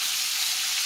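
Breaded hamburger steak frying in a 10-inch iron skillet, a brief, steady, close hiss of sizzling fat with no other sounds.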